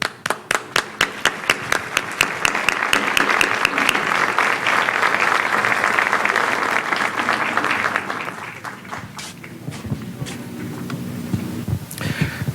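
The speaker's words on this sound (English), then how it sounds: "Please welcome Mr. Domínguez Ferraez with a warm round of applause." An audience at a public event on global warming in Veracruz, Mexico, breaks into loud, sustained applause to welcome a speaker, dense clapping that starts with a few distinct claps and thins out toward the end.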